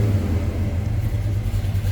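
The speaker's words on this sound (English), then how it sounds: "It's a 350 small block Chev that's paired up with an automatic transmission, turbo hydromatic 350 to be exact." The 350 small-block V8 of a 1970 Chevrolet K10 4x4 truck with a Turbo Hydramatic automatic rumbles close by, a deep steady burble with slight rises in revs and no voices.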